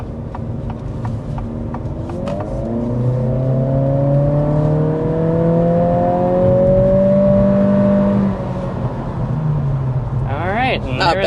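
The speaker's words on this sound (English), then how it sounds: "let's go ahead and start out with a hard acceleration." A 2024 Acura Integra with a CVT accelerates hard from inside the cabin, its engine droning up to a held, steady pitch under wind and road noise, then easing off as a voice speaks at the end.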